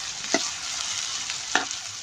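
Onions and green chilies sautéing with spices in a pan for an Amritsari nutri gravy, a steady hiss of frying broken by two sharp stirring scrapes of the spoon, close and alone.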